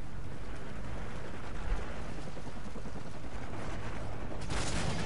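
Continuous gunfire and rumbling battle noise from Call of Duty Modern Warfare 3, steady and fairly loud throughout, with a sharper burst near the end.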